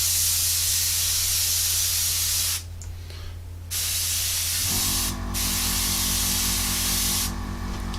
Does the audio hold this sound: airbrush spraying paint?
yes